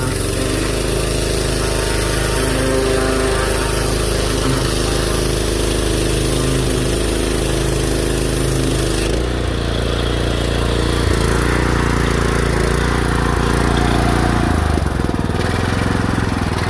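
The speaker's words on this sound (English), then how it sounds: "I just got myself a brand new pressure washer" A small Honda petrol engine on a pressure washer runs loudly and steadily at close range, with a brief dip and shift in tone partway through before revving on.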